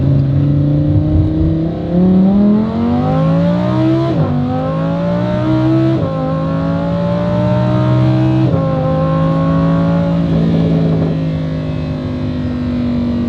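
A Lamborghini accelerating on the highway with loud engine drone and rising pitch through the gear changes, close and continuous with no talk.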